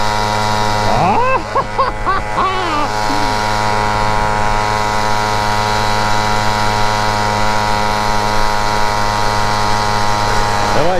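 A Motobécane 88 moped engine runs at a steady pace, its buzzing two-stroke drone holding an even pitch throughout, close and loud, with a few brief higher whistling chirps early on.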